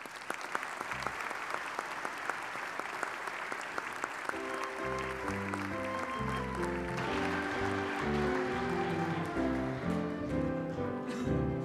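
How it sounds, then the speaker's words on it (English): Congregation applauding newly baptized members at a bilingual Easter Vigil Mass, steady clapping that swells as organ or piano music enters and plays beneath it. "How about a round of applause for them?"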